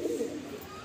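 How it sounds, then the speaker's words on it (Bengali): Loft pigeons coo in a low, throaty burst that is close and fairly loud, then trails off softly over under a second, with no talking. "এই হলো 5টা পায়রা, আপনারা দেখুন"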